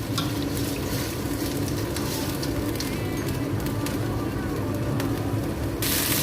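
Kway teaw rice noodles with spicy sauce are stir-fried in a pan over a high flame, giving a steady, close sizzle with scraping stirs and faint talk underneath.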